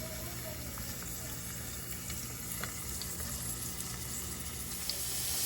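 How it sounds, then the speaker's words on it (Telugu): Onions fry in hot oil in a pan, giving a steady, close sizzle that continues without a break and grows slightly louder toward the end. "మనకు పెనం మీద ఆయిల్ కొద్దిగా వేడి అయిన తర్వాత వీటిని మన ఆనియన్స్ని అయితే పెట్టుకోవాలి"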